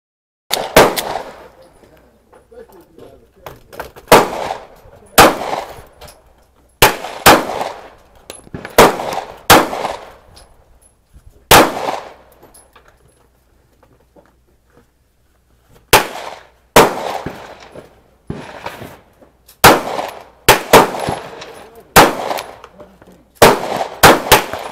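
Gunshots at an outdoor target practice, a series of sharp loud cracks fired singly and in quick clusters with quiet gaps between, no talk.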